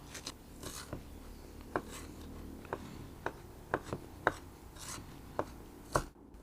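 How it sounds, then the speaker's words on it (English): Knife chopping sorrel leaves on a board, a run of crisp, irregular chops, some sharper and louder than others, close by with no talking. "Chopped it up and added it to the onions. We added the sorrel."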